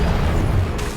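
Incendio fire spell cast in a Hogwarts video game: a dense, rumbling burst of flame that stays loud and steady for about a second, with a brighter hiss rising near the end.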